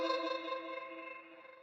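A sustained instrument tone run through a gritty lo-fi distortion effect in Ableton Live, buzzy and slightly warbling, fading out over under two seconds.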